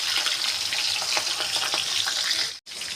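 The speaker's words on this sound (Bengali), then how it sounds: "এখন এখানে আমি 6 পিসের মতো চিংড়ি মাছ ভেজে নেব।" About six salted shrimp frying in hot oil in a home kitchen, a steady, close, even sizzle and crackle that cuts out for a moment near the end.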